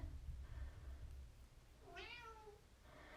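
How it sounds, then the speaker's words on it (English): A domestic cat meows insistently, a rising-falling drawn-out call near the middle, heard fairly close over a low indoor hum with no talking. "See, now she wants to come back in. This crazy cat."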